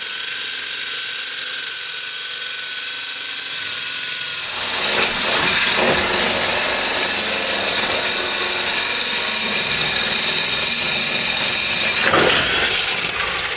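Core drill boring through a wall, starting as a loud steady grinding whine a few seconds in and running continuously to the end, with a brief surge near the finish.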